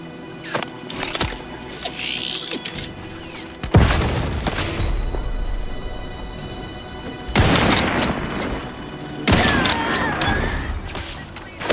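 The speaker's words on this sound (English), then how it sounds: "Explosion imminent." Combat in the video game Outer Worlds 2 on Xbox Series X: several heavy explosion bursts land among rattling gunfire and mechanical clatter, loud and close.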